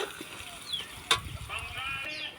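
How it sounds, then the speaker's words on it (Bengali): Sliced onions fry in hot oil for biryani beresta during home birthday cooking, a steady close sizzle with one sharp crackle midway. "এটা হলো বেরেস্তা ভাজা হচ্ছে বিরিয়ানির।"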